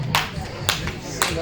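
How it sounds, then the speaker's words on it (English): A slow clap from a small audience at a Southern Oregon burner event: three sharp, widely spaced handclaps, close and distinct, with a murmur of background noise between them. "Slow clap, thank you very much."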